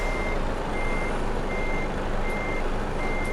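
A truck reversing in Euro Truck Simulator 2, its alarm giving a steady series of evenly spaced beeps over a constant engine drone.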